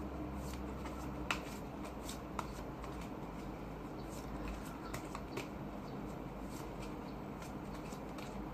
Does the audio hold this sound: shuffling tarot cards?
yes